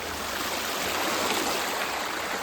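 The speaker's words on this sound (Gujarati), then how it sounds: "આ ડેમની નજીક ઝરણા છે." A stream near a dam in Polo Forest rushes in a steady, broad wash of water noise, close and constant throughout with no voices.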